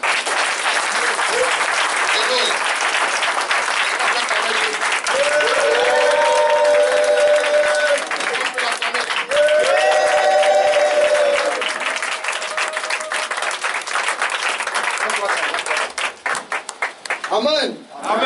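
A church congregation applauds and cheers to acclaim Jesus, loud continuous clapping and crowd noise filling the space, with voices and sustained shouts rising over it before the applause thins toward the end.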